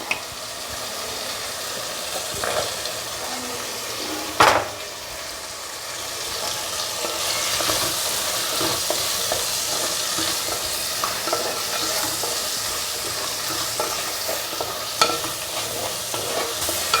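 Drumstick pieces and carrots sizzle steadily in hot oil for sambar while a utensil scrapes and stirs the pan, with a few sharper knocks against the vessel and no talking.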